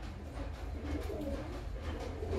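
A high flying breeding pigeon coos softly and repeatedly at close range, low rounded calls over a faint background hum, with no talking.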